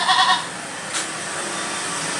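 A thin nursing goat gives a short, close bleat at the start, then a brief softer sound follows over steady background noise.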